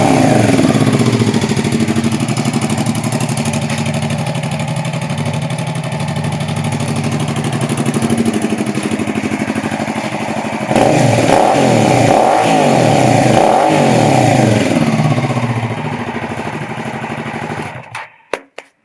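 A 2001 Suzuki SV650 motorcycle idles and revs with a short Akrapovic-style aftermarket exhaust, baffle installed. The engine rumbles loudly and steadily throughout, rises in a stronger burst of revving partway through, then cuts off abruptly at the end.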